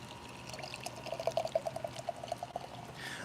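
Liquid, whiskey or beer, poured over a cooking steak, a steady trickling stream with a run of bright gurgling pulses, close and moderately loud, with no talking.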